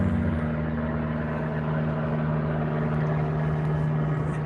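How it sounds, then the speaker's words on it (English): A small propeller plane drones steadily overhead, a constant buzzing engine hum that fills the scene without letting up. "We got a noisy little plane overhead."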